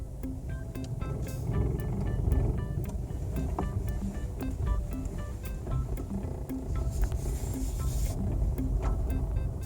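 A Dacia Duster ECO-G SUV running on LPG along a dirt path, a steady low engine and road rumble heard from inside the cabin with rattles and ticks, no talk.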